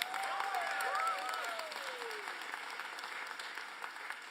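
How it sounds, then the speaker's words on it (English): A crowd applauds Baltimore Mayor Brandon Scott at his reelection campaign announcement, steady distant clapping with faint cheers, plus a couple of brief whistle-like tones sliding over it early on. "let's give him a round of applause"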